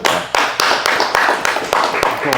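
An audience at a business panel event applauds a speaker, rhythmic close hand claps with a voice partly mixed in.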